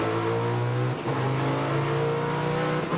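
A Group E race car engine at full power through quick gear changes during the 1993 Sandown 500, loud and close, with a brief dip at each shift before the harsh drone builds again; no talking.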